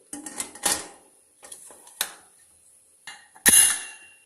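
A pressure cooker lid is fitted onto a pot of mutton pepper curry, a series of sharp metallic clinks and knocks spaced out over a few seconds, with the loudest clank near the end and quiet gaps between.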